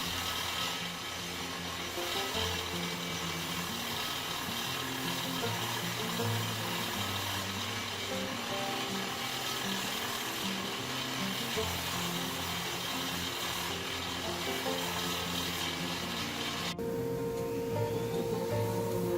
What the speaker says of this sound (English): I then just use my stationary belt sander to smooth the tapers and round over the edges of the paddle